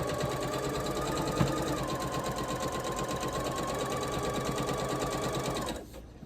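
A sewing machine stitches sashing strips onto quilt rows in one steady, continuous run with a fast mechanical chatter, then stops just before the end.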